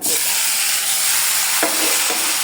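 Panch phoron spices frying in a hot pan give a loud, dense, continuous sizzle, with a couple of brief clicks partway through and no voices.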